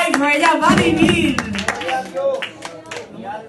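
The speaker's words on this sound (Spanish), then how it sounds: "Un aplauso a la sangre de Cristo." Several people clap their hands in a short burst, loud at first and then thinning out, mixed with excited voices in a church-style drama.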